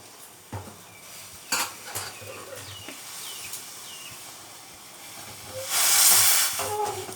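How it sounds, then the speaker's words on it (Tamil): A pot of tamarind mixture bubbles and hisses steadily on the boil, with occasional sharp clinks of a utensil and a louder rush of steam near the end. "பாருங்க கொதிக்குது"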